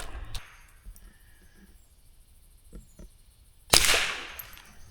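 A single rifle shot with CCI ammunition is fired during a squirrel hunt at about 25 yards. One sharp, close crack gives way to a short decaying tail, set against quiet outdoor background with a few faint earlier clicks.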